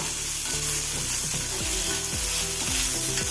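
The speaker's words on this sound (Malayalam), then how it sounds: "രണ്ട് സവോള നൈസായി അരിഞ്ഞ് കൂട്ടി കൊടുക്കാം ഒന്ന് ഇളക്കി കൊടുക്കാം" Finely chopped onions, added after mustard seeds, fry loudly in a pan for dried shark fry, a dense continuous sizzle with a steady low tonal hum running underneath the whole time.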